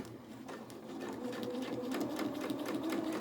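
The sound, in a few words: sewing machine stitching fabric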